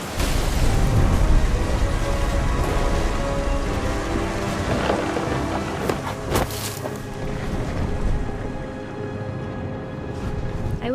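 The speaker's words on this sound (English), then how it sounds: "The thunder sounded much too close and full of angry power" A thunderstorm with heavy rain in the video game What Remains of Edith Finch, steady loud downpour with rolling thunder and a sharp crack near the middle, no voices.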